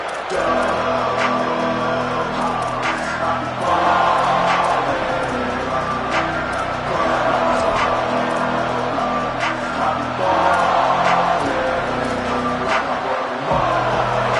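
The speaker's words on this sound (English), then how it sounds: "This crowd ready to make its presence known." Stadium crowd noise from the college football video game NCAA 26, a steady loud roar of fans filling the whole stretch with swells of cheering, while commentators talk over it.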